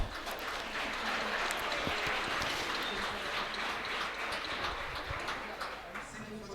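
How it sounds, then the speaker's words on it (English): A conference audience applauds a plenary panel at an opening session, a steady wash of clapping that lasts throughout with voices underneath. "Great applause for our plenary here."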